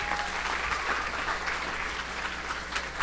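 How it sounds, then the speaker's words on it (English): Soft, distant applause from a family day crowd for someone named Claire, a continuous patter of clapping with a faint low hum beneath it. "Can everybody give Claire a round of applause,"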